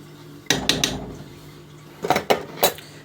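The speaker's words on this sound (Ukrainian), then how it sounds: "ось пересипаю в каструльку і буду потихесеньку отоплювати" Cottage cheese curds are poured into a small pot, with a few clattering knocks of utensil against pot in two short bursts separated by a quiet pause; no one speaks.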